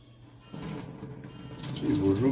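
Water runs from a kitchen faucet while fresh cheese curds are strained through a sieve, a steady splashing flow that starts softly and grows louder, with a faint voice underneath.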